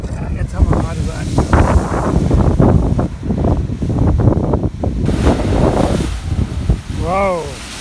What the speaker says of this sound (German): wenn du lang genug wartest, dann kommt da eine Wasserfontäne hoch